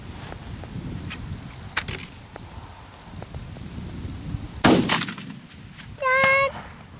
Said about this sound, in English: Just shooting with the 158 grain Core-lokts at 400.